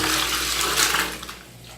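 Water poured steadily from a bucket into a toilet bowl to flush it in a Manila village apartment, a loud continuous rushing splash that lasts throughout and tails off slightly at the end.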